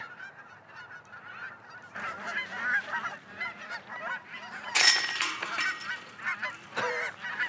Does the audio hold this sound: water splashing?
no